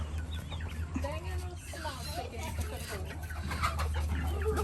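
Chickens cluck and call around a farmyard in Parika, Guyana, a steady mix of nearby hen noises over a constant low hum, with children talking excitedly throughout.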